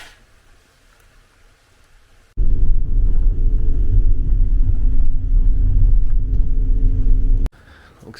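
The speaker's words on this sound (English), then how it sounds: "It means we've got to pay for parking and the little shuttle bus again" Shuttle bus climbing the road to Sumela Monastery in Turkey, a loud steady interior engine rumble that begins abruptly after a quiet stretch and cuts off just as suddenly near the end.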